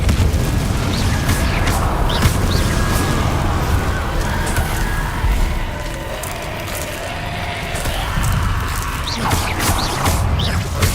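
Repeated fiery Confringo spell blasts and bursts in the Hogwarts Legacy video game, a dense stream of booms and pops over continuous combat noise.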